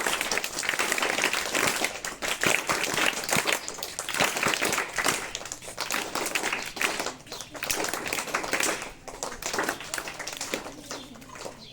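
A crowd applauds a school, its teachers and students at a gathering: dense, continuous clapping from many hands, fairly close and steady throughout, with no talk over it.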